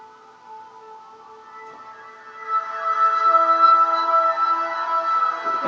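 A soft synth pad layer in a song holds quiet sustained tones, then swells a little louder midway and keeps a smooth, subtle drone, with no voices.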